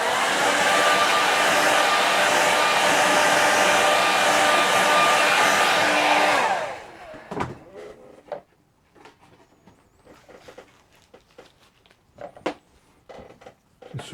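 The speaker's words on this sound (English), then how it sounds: "Just a touch of hairdryer." A hairdryer blows steadily and close for about six seconds while drying watercolour painting paper, then cuts off, leaving faint taps and rustles of brush and paper handling.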